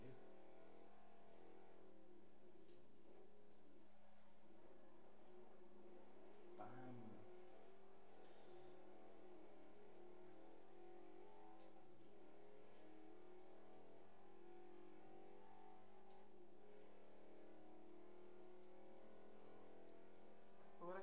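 A 1990s van's engine in Forza Horizon on Xbox 360 drones steadily at high speed near its top end, a continuous even hum throughout.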